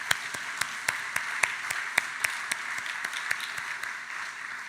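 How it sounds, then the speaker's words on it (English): Guests at a village address receive sparse, distinct hand claps from a small audience, a rhythmic patter of individual slaps that stays fairly faint and continues evenly. "Let's give them a round of applause, please."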